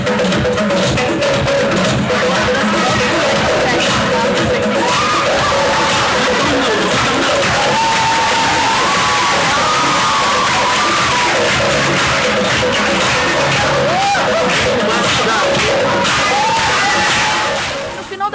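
Theatre audience cheering after a performance of three comedy sketches, a dense, loud roar of crowd noise with whoops and raised voices that stays steady and fades at the very end.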